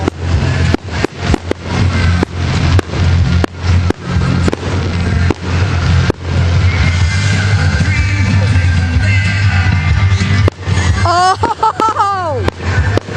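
Fireworks at an outdoor balloon festival burst in a rapid string of sharp, loud cracks and booms, then blend into a dense rumbling barrage. A crowd cheers and whistles near the end.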